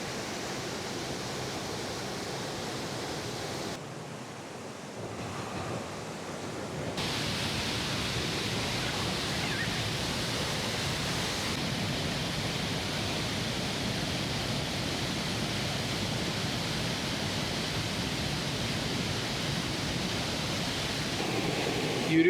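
Gürpınar waterfall in Levent Valley, Malatya, roars as a loud, steady wash of falling water heard from close by, dipping briefly early on before settling into a constant rush.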